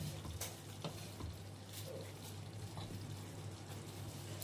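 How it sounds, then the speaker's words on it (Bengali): Potatoes and spice masala frying in a pan for a paneer curry, giving a steady, even sizzle close by over a low hum, with no talking. "আমার আলু দিয়ে মশলাটা ভালোভাবে কষানো হয়ে গেছে।"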